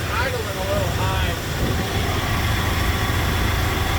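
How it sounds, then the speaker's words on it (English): A 1965 Chevy Olson Kurbside engine idles a little high, a steady loud low drone with a voice talking over it. "It's idling a little high."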